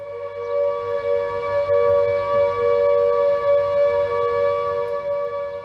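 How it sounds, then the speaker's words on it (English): A Blitz-era all-clear air raid siren holds a steady, sustained high tone, its pitch unchanging and alone, with a slight rise and fall in loudness. "the siren would go up high and then stay on high for a steady pitch"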